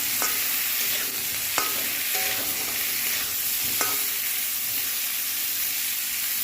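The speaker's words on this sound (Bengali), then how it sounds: "অল্প একটু হলুদ দিয়ে ফুলকপিটাকে ভালো করে নেড়ে নেবো" Cauliflower frying with a little turmeric in an oiled wok sizzles loudly and continuously while a spatula stirs it, with a few sharp scrapes and clinks of metal rising above the constant crackle.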